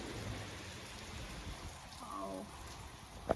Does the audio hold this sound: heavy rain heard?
yes